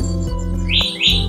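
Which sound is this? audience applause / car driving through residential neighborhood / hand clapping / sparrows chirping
sparrows chirping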